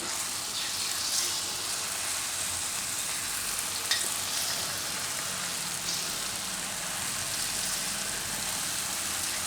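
Raw banana stick batter frying in hot oil, a steady dense sizzle and crackle running evenly throughout with a few sharper pops, no talking.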